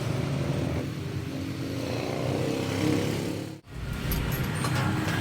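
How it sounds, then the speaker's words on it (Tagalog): A vehicle engine with a loose exhaust idles close by in a steady, rough drone with a rattling buzz. It cuts out abruptly for a moment, then resumes. "Yan, so medyo lumuwag sa exhaust. Ayun, napakaluwag exhaust."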